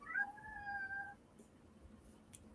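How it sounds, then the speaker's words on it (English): A house cat lets out a drawn-out, tonal meow lasting about a second, followed by quiet room background with a couple of faint clicks. "No, you hear my cat."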